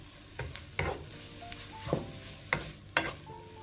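Chicken and vegetable samosa filling, with shredded chicken cooked in salt, pepper and garam masala, stirred in a pan: a handful of separate scraping strokes over a soft sizzle, close and fairly quiet, no talking.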